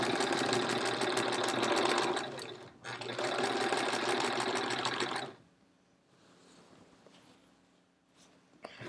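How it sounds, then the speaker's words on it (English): A domestic sewing machine stitches binding onto the front of a small hedgehog wall-hanging quilt, running loud and steady in two long bursts with a brief pause between, then stopping for a quiet stretch of faint handling sounds. "we are gonna sew until we are a 1/4 inch away from the corner"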